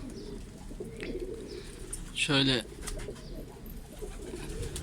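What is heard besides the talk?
akbaş pigeon cooing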